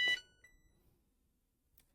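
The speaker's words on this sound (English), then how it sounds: "My pump has been beeping," One short electronic beep sounds at the start, bright and thin, followed by near silence and a faint tick.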